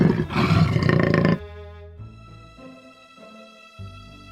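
Jaguar roar, a loud snarling burst lasting over a second, then fading into a quieter musical background.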